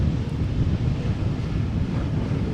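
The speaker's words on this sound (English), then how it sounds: "I think I'm also hearing a departing airplane." Departing airliner at Amsterdam Schiphol Airport, a low, continuous distant roar mixed with wind buffeting the microphone, steady in level with no talk.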